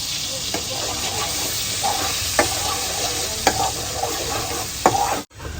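Garlic paste frying in a pan sizzles constantly while a spatula stirs it, giving several sharp scrapes and taps against the pan, close and fairly loud, ending with an abrupt cut.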